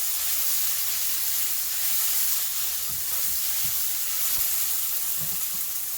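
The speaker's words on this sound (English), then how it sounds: "and then we're gonna throw in our rice noodles." Rice noodles fry in a hot pan with a steady, bright sizzle and hiss that runs without a break, and occasional soft stirring knocks sound beneath it.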